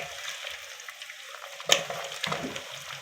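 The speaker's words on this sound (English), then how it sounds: "I'm going to add in my diced sausages and give it a good mix" Diced sausages fry in a pan with a low sizzle, broken by a sudden clatter and scraping as a utensil stirs them.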